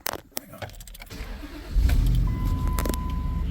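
A truck engine turns over and catches after a few clicks and rustles, then settles into a steady, close idle rumble that runs to the end.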